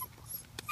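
A longhair puppy whimpers, a brief faint whine with a short yip near the end over quiet room noise.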